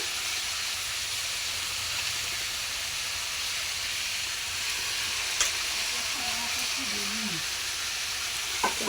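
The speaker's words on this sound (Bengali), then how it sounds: "আদা রসুন বাটাটা দিয়ে ভালো করে কষিয়ে নেব।" Ginger garlic paste frying with vegetable stalks in a pan gives a steady, even sizzle throughout, with a couple of faint clinks near the end.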